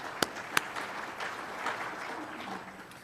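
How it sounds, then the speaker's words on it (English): A small meeting audience claps, starting with two sharp individual claps before settling into a soft, sparse patter heard from some distance. "please give my friends a round of applause also."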